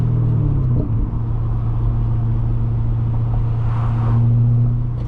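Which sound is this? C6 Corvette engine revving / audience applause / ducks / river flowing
C6 Corvette engine revving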